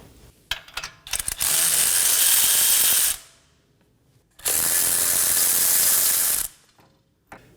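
Two long bursts of rapid clicking, each about two seconds, as a ratchet wrench spins fast loosening 17mm bolts on a Nissan Maxima's front wheel hub, separated by a brief quiet pause.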